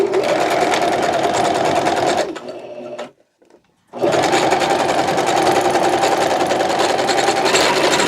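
A sewing machine runs steady and loud, stitching a folded half-inch hem on slipcover fabric for a sectional, stopping briefly for a moment of near silence before resuming its continuous whir.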